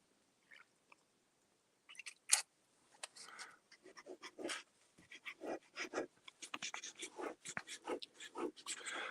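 A fine pen nib scratches across paper in quick, irregular strokes, close and faint. A few isolated scrapes come first, followed by a denser run of short scratchy bursts.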